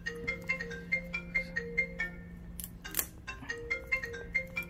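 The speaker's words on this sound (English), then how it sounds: "please excuse me for any disturbance such as this ringtone" A phone ringtone plays indoors in an office, a bright repeating melodic pattern of short chiming notes that rings on steadily and fairly loud, with no talk over it.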